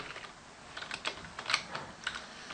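Quick bursts of typing on a computer keyboard, irregular clicks and clacks at close range, with no speech over them.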